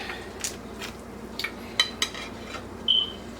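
A spoon or ladle stirs a pot of simple chicken stew, giving a few light scraping clinks at irregular intervals against a quiet background, with one brighter metallic tap near the end.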